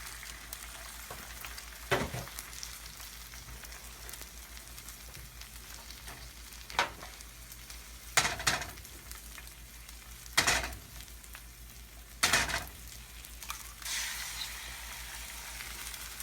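Eggs frying one at a time in a pan coated with cooking spray give a continuous soft sizzle and crackle, broken by several sharp louder bursts and scrapes spaced every few seconds.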